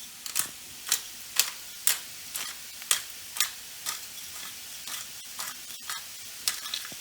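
Bacon and onions fry slowly over low heat in a pan, giving a soft steady sizzle broken by regular scraping stir strokes about every half second, close and fairly quiet with no speech.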